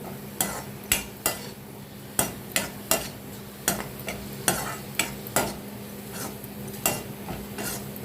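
Carrots frying in oil for carrot chutney, stirred in a pan with a steady low sizzle and a regular series of sharp spatula scrapes and clinks against the metal, close and without voices.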